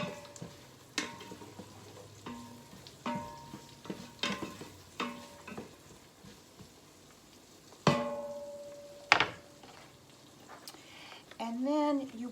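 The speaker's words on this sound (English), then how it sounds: "Give that a stir." Soup with a tablespoon of Italian seasoning being stirred in a pot, with scattered spoon scrapes and clinks against the pot, a faint simmering undertone, and a few louder knocks near the end.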